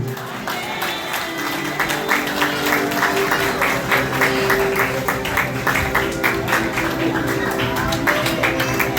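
A church congregation applauds in a loose, sustained patter of many hands, fairly close, with some voices mixed in underneath and a low hum behind.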